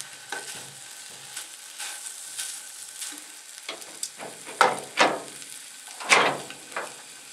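Steak frying in a fry pan on a wood-burning VitalGrill survival camping stove, a steady low sizzle broken by several louder crackling bursts, close up, with no talking.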